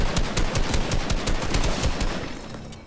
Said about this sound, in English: It was an assault rifle, blasting since the wall was there, versus a shotgun